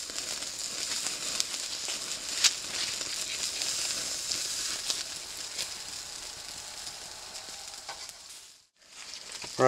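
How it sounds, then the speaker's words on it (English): Opossum fat renders into oil in a pan over a fire, sizzling and crackling steadily, then briefly fading near the end before sputtering again. "We're rendering it down in a pan right now into an oil"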